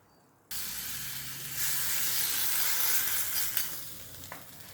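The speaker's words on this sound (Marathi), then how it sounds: "आता ही फोडणी यावर टाकून द्यायची आहे" Hot tempering with chopped green chili is poured over puffed rice, setting off an abrupt loud sizzle that swells and crackles steadily, with a couple of faint knocks near the end.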